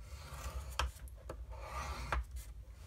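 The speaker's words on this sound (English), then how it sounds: "score it at 3/4 of an inch" Paper is scored for a beehive treat holder craft with soft, close rubbing strokes, several quiet drags in a row against a faint background.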